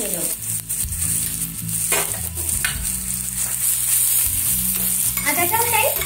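Grated ginger going into a spicy cauliflower curry frying in a pan, a steady loud sizzle with stirring scrapes throughout, no talking.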